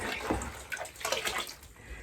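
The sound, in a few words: water running from a tap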